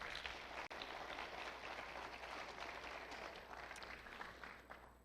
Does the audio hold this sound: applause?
yes